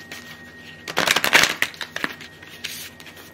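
Tarot cards being shuffled by hand, a flurry of crisp riffling and flicking bursts that swell in the middle and then trail off into a few lighter taps, close up with no talk.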